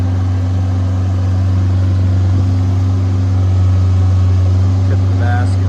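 A Deutz diesel engine idles steadily on a 1999 JLG 600S boom lift, a loud, constant low drone with a strong even hum running throughout, close by.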